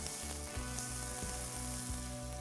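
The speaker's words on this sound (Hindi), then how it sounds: "We have to cook the onion until it becomes soft." Chopped onion sizzles and fries steadily in a pan for a chicken curry, a continuous close crackling hiss with a low rhythmic pulsing hum underneath throughout.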